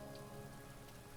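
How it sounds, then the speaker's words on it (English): Steady rain from the Book of Hours video game, a soft continuous hiss of drops on a surface with no other sounds over it, faint and even throughout. "It's a rainy day"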